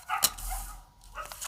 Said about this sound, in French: Un petit chien qui hurle.